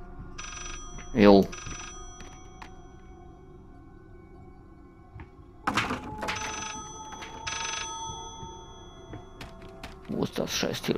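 A telephone rings in the horror video game Layers of Fear, with several short bursts of ringing spread across the clip, moderately loud, alongside scattered clicks and other game sounds.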